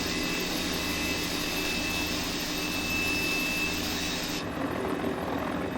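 A Mini 500 helicopter hovering in a flight simulator, giving a steady, loud broadband whir of rotor and engine that holds constant throughout, with a slight drop in the high hiss near the end.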